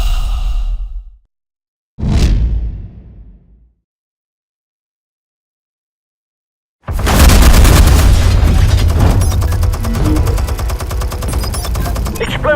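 Explosives detonate in the Batman Telltale video game. Two short booms sound first, separated by silence, then after a pause a long, dense rumble of blasts and roaring debris fills the last several seconds at high volume.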